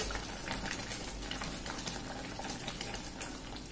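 Omelette curry (omlet pulusu) simmering gently in a pan on a low flame, giving a steady soft bubbling and faint sizzle that runs evenly throughout.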